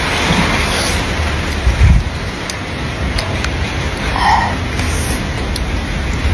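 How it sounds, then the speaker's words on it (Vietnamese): Rain falls steadily as an even, broad hiss through the whole stretch, with a single dull low thump near the two-second mark and no voices. "Mưa"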